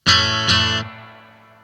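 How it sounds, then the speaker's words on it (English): Two bright distorted electric guitar chords struck in quick succession through Fender Princeton Reverb amps, then a reverb tail fading out slowly. "A little bit of reverb going."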